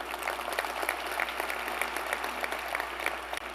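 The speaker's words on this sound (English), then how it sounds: "you can clap for that, that's great." Audience applauding during a mayor's State of the City address, a steady wash of clapping from a large indoor crowd lasting the whole stretch at even loudness with no talk over it.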